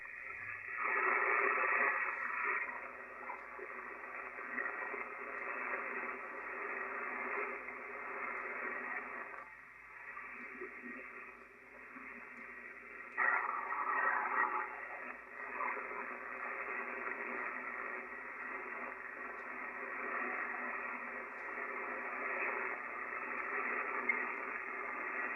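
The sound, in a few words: static noise on ham radio receiver with vertical antenna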